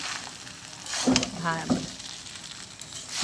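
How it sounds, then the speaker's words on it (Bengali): Cooked rice frying in ghee, a soft continuous sizzle with a few louder stirring scrapes around the middle, low-level and close. "ঘিয়ের মধ্যে ভাতগুলোকে মিশিয়ে ভালোভাবে আমি ভেজে নেব।"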